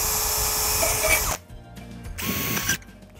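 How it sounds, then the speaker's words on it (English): A power drill bores holes in rain chain cups, whining loudly for over a second, stopping, then spinning up again for a second burst before cutting off. "I'm gonna drop it right there, drill a few holes, make sure this drains correctly."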